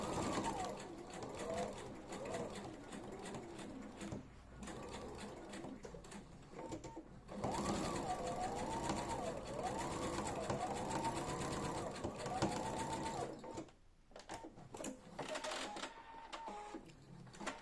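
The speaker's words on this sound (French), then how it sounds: "On va surpiquer cette pièce. Donc, on augmente la taille du point pour avoir une jolie surpiqûre." A sewing machine runs in long continuous stitching bursts while topstitching a trouser fly piece with a lengthened stitch, pausing briefly between runs; speech is faintly present underneath.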